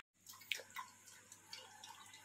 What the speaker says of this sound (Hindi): तो ये देखो दोनों नल से पी रहा है, उससे कुछ बूंदें गिर रही हैं और इससे कुछ ज़्यादा गिर रही हैं।